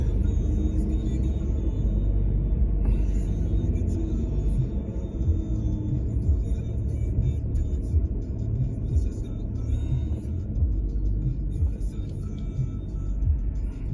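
A car drives through busy city traffic on First Avenue toward Jericho Beach in Kitsilano, Vancouver, with a steady low road rumble from start to finish and no voices.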